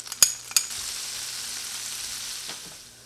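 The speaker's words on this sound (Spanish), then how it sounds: "A continuación añadiremos 6 dientecitos de ajo." Six garlic cloves frying in a pan of olive oil and butter give a steady, close sizzle, opened by two sharp clinks of a utensil and followed later by a faint scrape, with no talking.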